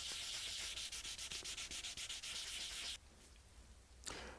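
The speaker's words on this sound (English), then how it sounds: "I'm now on to 2000 grit. So taking out the scratches left by the 1500 grit wet and dry." Rapid back-and-forth strokes of 2000 grit wet and dry paper rub a Gibson Les Paul's finish in a quick, even rhythm of about a dozen rasps, then stop, leaving a quieter pause and one last scuff.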